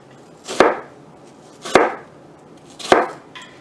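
A knife chops through an onion on a cutting board in three separate, evenly spaced strokes, each a crisp close thud with a short crunchy tail, with quiet pauses between them.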